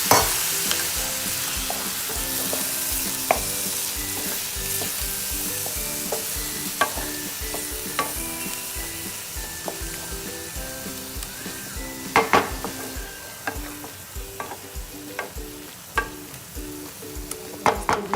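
Carrot halwa cooks in a pan under a constant loud sizzle, with frequent metal scrapes and clanks from a spoon stirring against the pan, growing busier toward the end.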